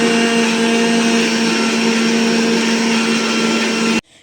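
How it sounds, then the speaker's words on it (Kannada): A kitchen mixer whirs loudly and steadily, blending muskmelon juice with ice cream, its constant motor whine running for about four seconds before cutting off abruptly. "ನೆಕ್ಸ್ಟ್ ಇದನ್ನು ಮಿಕ್ಸಿ ಮಾಡ್ಕೋತಾ ಇದ್ದೀನಿ."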